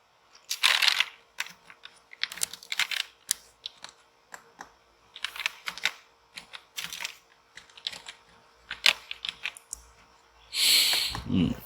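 Close, uneven typing on a computer keyboard comes in short bursts of crisp key clicks separated by pauses, ending in a louder rustle, with no talking.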